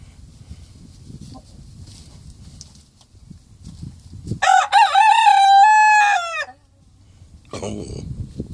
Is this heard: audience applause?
no